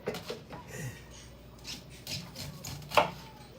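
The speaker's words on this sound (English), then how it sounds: "It's like I've always done it with a knife. Why you try to change that? Just cut it off the cob." A knife cuts kernels off a corn cob in a series of short, scraping chops and rubs, several uneven strokes close up, with one sharper cut near the end.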